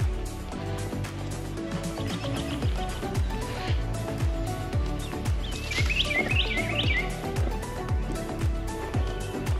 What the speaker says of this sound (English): The little bluebirds are starting to come in.